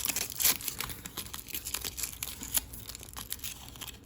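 Soft crinkling and crumpling as material is folded and pressed by hand into a small hat for a doll, a close, quiet string of papery crackles with brief sharper crunches.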